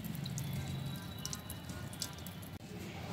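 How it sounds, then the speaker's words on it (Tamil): Water drains out of the bottom of a plant pot after repotting, a soft steady trickle with faint drips close by, and a low hum in the background. "தண்ணி வெளியேறுது பாருங்கள், நம்ம ஊற்றுற தண்ணி இந்த அளவுக்கு ஸ்பீடாக வெளியேறணும்."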